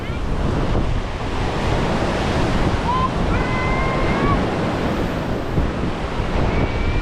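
Sea waves roll and wash continuously onto Bla Wae beach in Tak Bai, Thailand, with heavy wind buffeting the microphone and faint voices calling out now and then.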